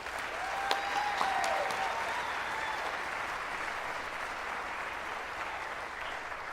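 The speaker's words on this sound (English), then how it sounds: "Ladies and gentlemen, please give a warm round of applause for our Board of Trustees" Warm sustained applause from a large audience at a university presidential inauguration ceremony honouring the Board of Trustees. The clapping stays even and full, with a faint tone ringing briefly near the start.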